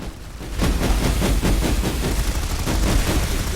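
Rapid shotgun fire from light assault troops in an online shooter game battle crackles in dense overlapping bursts, loud and continuous, with explosions mixed in.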